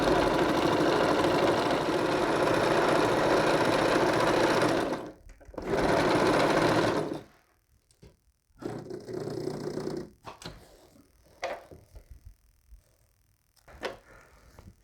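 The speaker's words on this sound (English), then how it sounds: "I'm going to be running the needle 1/2 inch on this side" A sewing machine stitches a hem with a half-inch seam on a quilt storage bag, running in a loud, close, steady whir in two bursts, then going quiet apart from a few short handling knocks.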